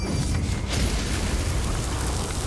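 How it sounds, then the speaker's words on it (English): An explosion goes off during a Dungeons & Dragons tabletop session, a dense, loud booming roar that fills the whole moment with sustained rumbling and no clear break. "so there's a nice explosion that goes off"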